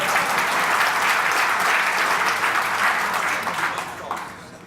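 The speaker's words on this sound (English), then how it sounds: "You're allowed to clap." Audience at a developer summit applauding in a steady, dense burst of clapping that holds for several seconds before fading.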